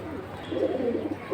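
Pigeons at a pigeon market, several birds cooing in low overlapping rolls nearby, steady and moderately loud.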